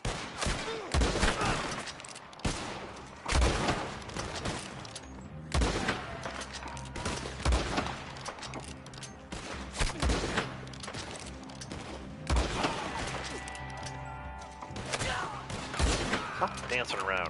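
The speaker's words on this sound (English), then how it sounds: "Sniper rifle headshots." Sniper rifle shots in Red Dead Online, a series of sharp, loud cracks spaced irregularly across the stretch, each with a booming tail, mixed with other game noise.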